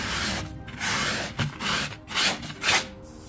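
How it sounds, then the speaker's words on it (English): A sanding pad rubbed lightly back and forth over a painted wooden table, giving repeated soft, gritty scraping strokes in an uneven rhythm, close and moderately loud with no talking. "I've just got a sanding pad and I'm just going to lightly rub over it."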